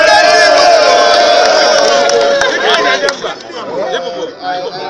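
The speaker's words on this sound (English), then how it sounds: "I am very happy to be back and received by this tumultuous crowd, party supporters and non-party members" A tumultuous crowd of party supporters welcomes a returning politician with loud, dense chatter, shouting and cheering that fill the whole stretch, with voices overlapping close by.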